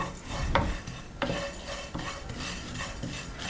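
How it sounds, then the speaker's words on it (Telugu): Vermicelli roasting in a kadai, a soft dry rustle with a light sizzle and a few sharp clinks of a spoon against the pan, quiet and close, with no voices. "తర్వాత అదే కళాయిలో సేమియా వేసి దూరగా వేయించుకోవాలి."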